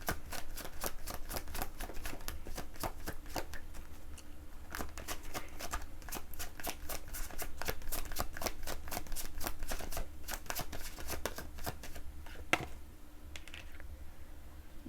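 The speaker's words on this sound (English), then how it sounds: "I'm going to start first by pulling an oracle for you guys with the Star Dragon Oracle." Star Dragon Oracle cards being shuffled by hand: rapid, rhythmic riffling flicks repeating close and crisp for the whole stretch, with a brief tap near the end.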